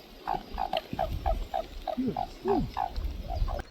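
Repeated low croaking calls from several Japanese toads in a wetland at Kamikochi, evenly spaced in a steady chorus, with a few deeper groaning calls mixed in, fairly close.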